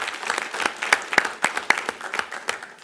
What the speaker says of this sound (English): I'd like everybody to join me and just show a round of applause for all of those people